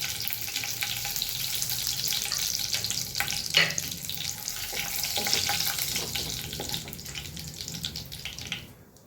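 Whole spices, bay leaves, cinnamon, cardamom, dried red chillies and cumin, tempering in hot oil give off a steady close sizzle and crackle that holds throughout, with a few louder pops midway before it cuts off abruptly at the end.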